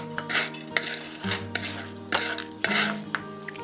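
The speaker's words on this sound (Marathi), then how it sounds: "आपण आता ही डाळ एका वाटीत काढून घेऊ।" Roasted lentils scraped off a griddle into a bowl with a metal spatula, giving repeated close metallic scrapes and clinks with a faint sizzle underneath, several strokes in quick succession.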